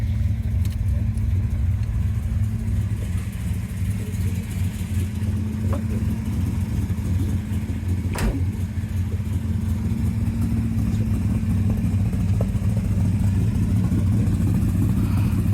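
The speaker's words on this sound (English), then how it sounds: "Real lumpy cam. Sounds like a galloping horse." A 1970 Chevelle SS with a built LS5 454 V8 and a lumpy cam idles steadily and close, its loping low rumble unbroken for the whole stretch with no talking.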